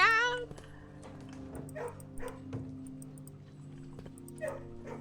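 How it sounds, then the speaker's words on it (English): Several dogs in a video-game kennel give short yips, whimpers and barks at uneven intervals. The calls are moderately loud and sit over a steady low background hum. "Can I just let the dogs out?"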